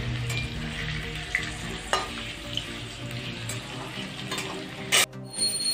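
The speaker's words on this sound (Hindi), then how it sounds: "आलू फ्राई किया जा रहा है" Potato pieces frying in a pan give a steady close sizzle, with occasional scraping and clinking as they are stirred, and a louder metallic clatter near the end, with no talking.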